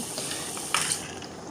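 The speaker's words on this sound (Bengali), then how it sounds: "একটু চাপা দিয়ে ভালো করে আলুটাকে ভেজে নিচ্ছি" Steady crackling sizzle of potatoes frying in hot oil, with a brief scrape of stirring partway through; close and fairly loud, no voices.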